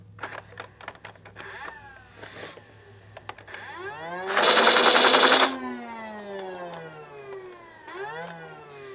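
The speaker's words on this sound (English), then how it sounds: "There's a motor in here, as you can probably hear. That's for rapid fire." The rapid-fire motor of a Hasbro Aliens M41A Pulse Rifle Nerf gun whirs up into a loud, buzzing burst of about a second, followed by rising and falling electronic whines and scattered mechanical clicks.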